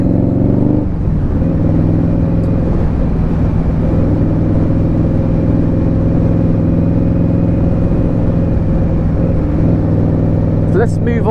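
An Indian Scout Bobber motorcycle cruises steadily, its engine a loud, continuous low drone with a brief throttle change near the start and wind noise throughout.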